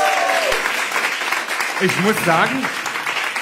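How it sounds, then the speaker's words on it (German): Loud, sustained audience applause at a live stage show, with a voice talking and laughing over the clapping. "Applaus für Andreas."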